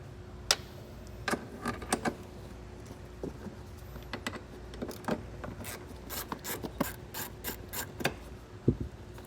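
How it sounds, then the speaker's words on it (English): A ratchet with a 10mm socket backs a nut off a stud inside a 2018 Tesla during a trailer hitch install, giving irregular bursts of quick, close clicking with short pauses between strokes. "You're going to need a 10mm socket to remove that nut."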